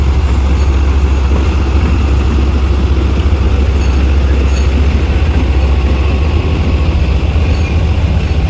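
Shalimar Express 28 Down passenger train hauled by a ZCU30 locomotive passes on Pakistan Railways, a steady loud low rumble with rolling rail noise throughout, no voices.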